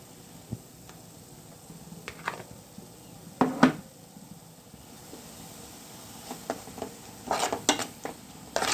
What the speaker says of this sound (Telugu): ఇప్పుడు కొద్దిగా మనం అల్లం వెల్లుల్లి పేస్ట్ వేసుకుందాము